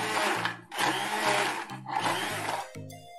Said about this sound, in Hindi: तो हम इसे मशीन से थोड़ा सा मिक्स कर देते हैं, इससे ज्यादा क्रीमी अच्छा बनता है।